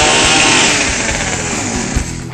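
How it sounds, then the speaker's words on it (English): A chainsaw's loud, raspy small engine screams at high revs close by, holding a harsh buzzing roar that eases slightly toward the end. "Rev up the chainsaw!"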